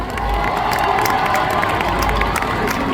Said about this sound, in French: on peut l'applaudir s'il vous plaît encore une fois